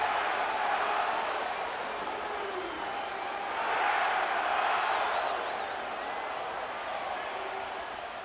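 A stadium crowd in Madden NFL 25 at SoFi Stadium in Inglewood roars in a steady wash, swelling briefly near the middle, with faint whoops on top and a voice talking underneath.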